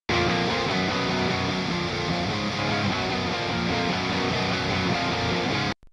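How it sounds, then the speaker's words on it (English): Blended electric guitar tones from a Jim Root signature guitar, a 335 and a Strat play a dense distorted riff together, loud and continuous for about six seconds before cutting off. "if we blend those together, which is the Jim Root, the 335, and the Strat, they'll all sound like this"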